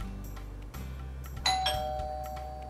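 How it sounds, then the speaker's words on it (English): A doorbell chimes once over a low steady hum, its clear tone ringing out and slowly fading. "A doorbell sound lets us know that guests have arrived."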